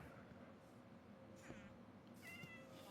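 Minecraft cat meowing in the game, several short faint mews scattered over a low background hum, the last ones rising and wavering.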